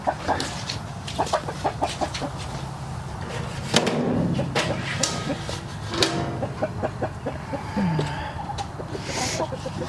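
A rooster clucks in short repeated bursts, close by, with other fowl sounds scattered around it and no talking.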